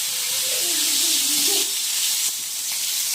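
Medium tomato dropped into hot mustard oil sets off a loud, steady hiss of sizzling that runs unbroken and close for a few seconds, with no voices.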